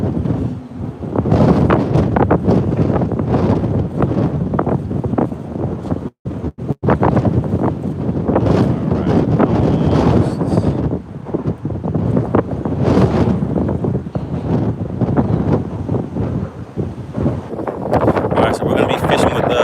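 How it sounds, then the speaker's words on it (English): Strong wind roars and buffets the microphone on the Gulf of Mexico during Tropical Storm Bertha, loud and continuous for the whole stretch, with a brief dropout near the middle; someone speaks over the gusts while fishing from a boat. "the wind is atrocious"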